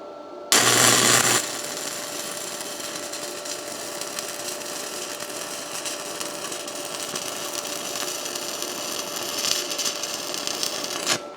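A Yes Welder Flux135 Pro flux-core welder lays a bead on an exhaust pipe. A sharp burst opens into a steady, close crackling hiss that continues with no talk.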